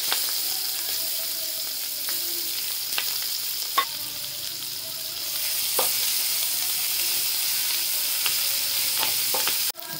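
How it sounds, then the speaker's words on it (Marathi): Chopped onion sizzling in hot oil with asafoetida and curry leaves in a pan, a steady frying hiss with occasional scraping stirs and clinks, no voices. "कांदा टाकते."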